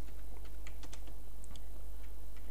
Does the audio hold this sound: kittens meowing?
no